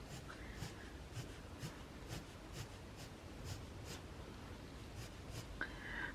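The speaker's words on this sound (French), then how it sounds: "Je viens tirer mes traits comme ça." A colored pencil draws a wood-grain effect in short regular strokes, a soft close scratching repeated about twice a second, faint and alone.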